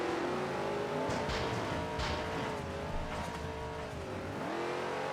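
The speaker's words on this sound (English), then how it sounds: "have been challenged to a trophy truck race on the Maple Hill track" Trophy truck engine racing on the Maple Hill track in the MX vs ATV Unleashed video game, a steady, continuous engine drone with shifting revs and a few brief surges, loud and close throughout.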